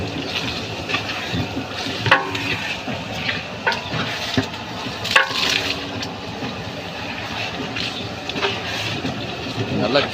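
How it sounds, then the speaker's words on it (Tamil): A large pot of tomato rice, made with about 30 kilos of tomatoes, being stirred steadily, with scraping clanks and a bubbling, sizzling wash throughout while someone talks over it. "நல்லா கிளறி விட்டுட்டே இருக்கணும்"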